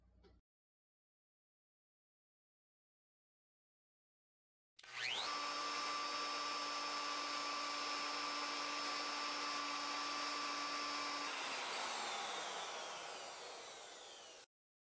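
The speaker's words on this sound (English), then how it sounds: "Place it into your router and route around the edge of the tabletop." Handheld router fitted with a 3/8 inch bearing-guided roundover bit shapes the edge of a wooden tabletop, starting after silence with a loud steady whine that holds for about ten seconds, then drops in pitch as the motor winds down.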